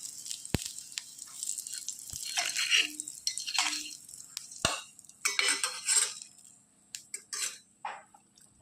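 Hot tempering is stirred into fenugreek rice porridge (uluva kanji) in a pot: soft, close stirring and scraping with a spoon, a few sharp utensil clicks against the vessel, and light wet drips and sizzles. No one speaks.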